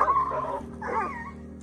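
A pitbull-like street dog gives a few short whimpers and yips at close range, with no talk over it.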